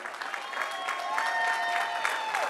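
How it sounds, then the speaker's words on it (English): At the grand opening of Milwaukee's HOP streetcar, a crowd applauds in a short, even burst of clapping, moderately loud and heard from some distance. "Let's give them all a round of applause."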